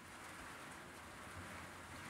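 Steady rain falls at a dirt-hauling work site, a continuous even hiss of drops with no pauses and no voices.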